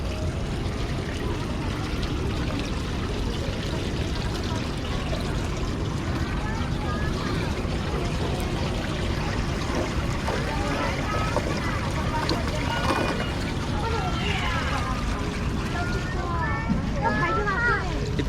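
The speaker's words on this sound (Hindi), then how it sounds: "There is a water fountain." Water fountain in KLCC Park sends out a steady, continuous splashing rush of water throughout, with faint voices and outdoor bustle blended into the background.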